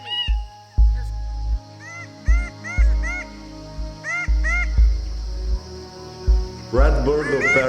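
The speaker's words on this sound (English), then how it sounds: "Red bird of paradise." A red bird of paradise in Papua gives repeated harsh, crow-like caws in short bursts, mixed with loud low thumps and a rougher flurry of calls near the end.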